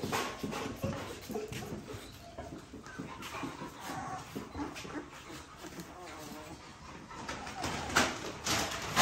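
Dogs whimper and whine softly amid a busy outdoor mix, with chickens clucking and a person talking over it.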